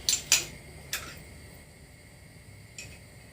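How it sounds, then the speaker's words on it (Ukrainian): A spoon scrapes and clinks a few times against a bowl while gelatin soaking in cream is stirred, with two quick taps close together at the start, another a moment later, then quieter stirring and one last light clink. "Перемішуємо."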